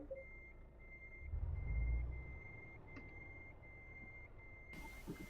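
Trucks reverse in a video game convoy, a steady high reversing beep repeating throughout over a low engine rumble that swells briefly, with no talk.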